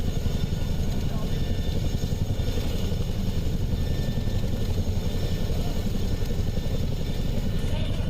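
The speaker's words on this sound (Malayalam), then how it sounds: "അന്ന് കണ്ട അതേ ഹെലികോപ്റ്ററാണ് ഇപ്പോൾ മുന്നിൽ" An Indian Air Force Chinook helicopter heard from close by, a loud, steady, pulsing rotor and engine drone that holds unbroken throughout.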